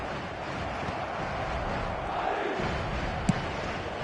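Crowd roaring in a video game football match, a dense, steady stadium din of cheering and chanting at moderate distance, with one sharp short blip near the end.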